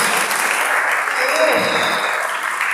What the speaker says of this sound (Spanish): ¿Cuánto puede dar un fuerte aplauso al Señor?